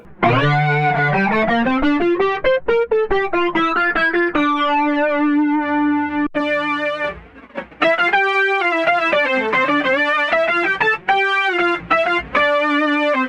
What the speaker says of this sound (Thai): นี่คือ Boss SY1 Synthesizer ที่จะเปลี่ยนเสียงกีตาร์ของคุณให้กลายเป็น Synthesizer